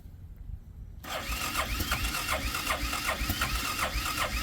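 A cold engine on an off-grid cabin homestead cranks over after a second of quiet, the starter churning in a fast, even rhythm for several seconds without catching, close and loud.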